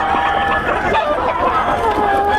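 Young stag roosters in a Pampanga cockfighting-breeder setting, their clucks and calls rising over a busy crowd murmur and nearby chatter, steady and close throughout.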